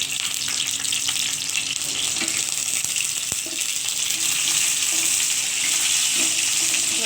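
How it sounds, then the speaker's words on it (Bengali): Whole cumin seeds with dried red chillies and bay leaves frying in hot oil, a steady close sizzle running throughout with faint intermittent clinks, and no voices. "ভালো করে এটাকে তেলের সঙ্গে ভেজে নেব"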